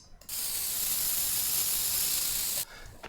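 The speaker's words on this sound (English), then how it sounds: "And this spray can is pretty good because" Spray can spraying in the video game Teardown, one continuous loud hiss lasting over two seconds, starting and stopping sharply amid quieter game sounds.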